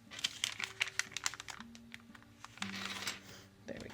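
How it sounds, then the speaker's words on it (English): Someone cuts through polymer clay for a fairy house at close range, producing rapid, crisp crackling and scraping clicks in quick bursts over a faint low hum. "And just kind of cut that"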